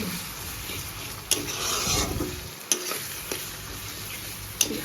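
Tomatoes frying and being stirred for a Bengali rui kalia fish curry, a steady sizzle under scraping spatula strokes with several sharp clinks against the pan, no talking.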